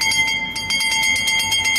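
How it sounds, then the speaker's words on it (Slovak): Bell rung repeatedly to signal the final lap of a 3 km race walk at a meeting in Banská Bystrica, steady bright rings in a quick regular rhythm over a constant tone and crowd noise. "v záverečnom okruhu, do ktorého mu práve teraz zvonia"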